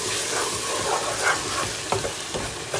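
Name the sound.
deglazing a pan, stirring and scraping up caramelized bits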